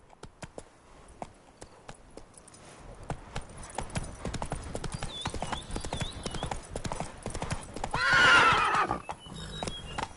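Geralt's horse Roach in The Witcher 3 clops along in a quick irregular hoofbeat rhythm, closing with a loud whinny near the end.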